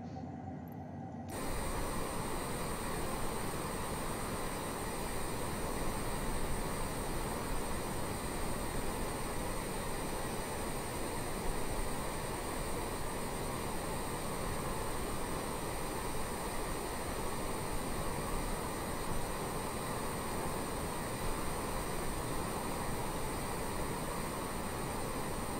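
Steady broadband roar of a Honda Jet's engines heard from outside the aircraft at cruise around 40,000 feet in Microsoft Flight Simulator 2020, constant and loud for the whole stretch after a short quiet start.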